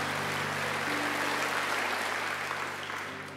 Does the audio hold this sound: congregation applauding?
yes